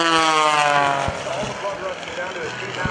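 Aerobatic airplane flown at a 2011 Air National Guard open house airshow in Rhode Island, a loud close engine drone with rising harmonic whine that shifts and roughens as the aircraft maneuvers, continuous throughout.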